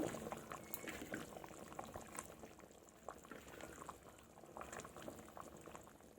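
A large pot of fish curry made with a big brigade fish and its head bubbles at a rolling boil, with dense irregular popping and gurgling held close and steady.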